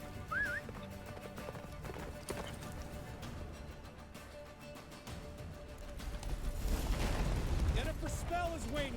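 Horse hooves clip-clop at a gallop in The Witcher 3 while a wintry blizzard roars around, the hoofbeats loudest near the end, with a whinny and a voice speaking over them.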